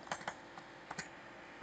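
Soft keystrokes tap out on a computer keyboard in a brief, uneven run of about half a dozen clicks, close but quiet.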